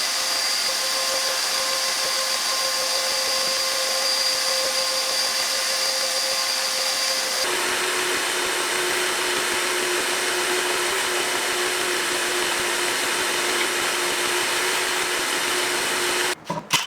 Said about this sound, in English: I'm gonna vacuum all this stuff up